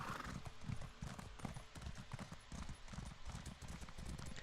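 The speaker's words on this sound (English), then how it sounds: "Come on, horsey, don't get stuck now." Horse hooves clip-clopping in the video game Elder Scrolls Online, a steady rapid trot of hoofbeats with occasional whinnies, fairly close and continuous without speech.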